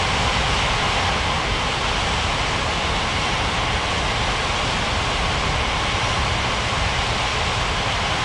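Airliner engines roaring during takeoff in the air traffic control game Unmatched Air Traffic Control, a loud, continuous, even jet rumble that holds steady throughout with no voices.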